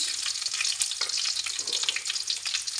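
Garlic and ginger paste with bay leaves frying in mustard oil for a mango pickle, a steady, close, bright sizzle with crackling bubbles and faint stirring, no voices.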